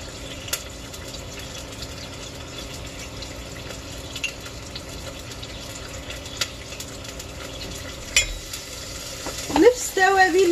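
Tomato garlic sauce with spices and hot paprika fries in a pan, giving a steady soft sizzle with light stirring and utensil clinks that grow busier and louder toward the end.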